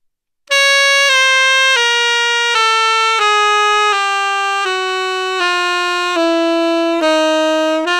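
A slow chromatic saxophone lick moves one note at a time, about ten held, evenly spaced tones stepping downward in pitch. It is loud, close and unaccompanied, with silence before the first note.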